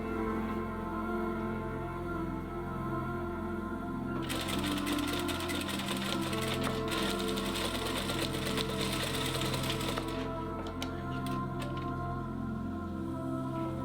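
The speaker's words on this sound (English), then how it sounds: "stitch your quilt pieces and letter blocks together in the correct order, one at a time" A sewing machine stitches quilt pieces and letter blocks together: a steady motor hum throughout, with a loud stretch of fast, even needle clatter in the middle.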